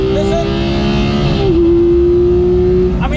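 A Porsche 991 GT3 engine holds a loud, steady drone from inside the car, dips briefly during a quick flat-shift gear change, then settles straight into the next gear without a pause.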